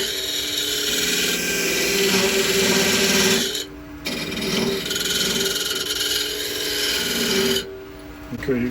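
On a wood lathe, a tool turns a tenon down toward a measured diameter, giving a loud continuous scraping hiss as it cuts, with two short breaks where the cut lifts off before resuming.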